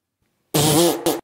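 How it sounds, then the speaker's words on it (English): A loud, buzzy fart at a movie theater, starting after a half second of silence and running about half a second before a short break and a brief second burst, heard alone with no talk. "Oh, it's just a bad fart!"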